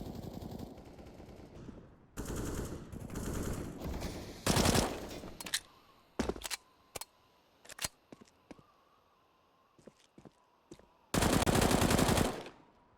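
Rapid automatic rifle bursts from a Counter-Strike match on the Nuke map, with long sustained volleys and scattered single shots and short taps between them, loud and close, with no talking.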